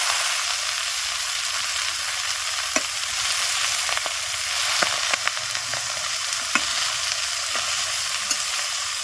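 Leafy greens frying in oil with spices in a pan, a loud, even sizzle broken by regular spatula clicks and scrapes as they are stirred, close by with no talking.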